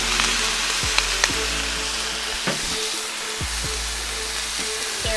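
Chicken stir fry sizzling in a pan with olive oil and soy sauce, a loud steady frying hiss broken by a few sharp clicks and scrapes of a utensil.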